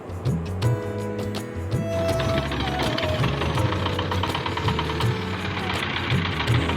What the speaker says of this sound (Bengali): শ্যালো মেশিন স্টার্ট দিয়ে ছুটে চলল আমাদের নৌকা।